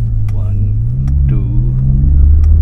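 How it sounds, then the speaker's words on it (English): A Skoda Octavia RS245 on a Revo Stage 2 OPF map accelerating in third gear, its engine droning loud and close with a steady, slowly rising pitch while someone talks over it. "Third gear, 2000 RPM pull."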